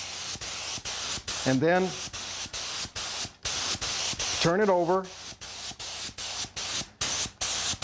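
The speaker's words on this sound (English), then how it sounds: "So on this little cherry stool, I'm spraying the legs, except this little part, so I can turn it over." A spray gun hisses in repeated bursts while applying wood finish to the legs of a small cherry stool, loud and close, with brief speech over it.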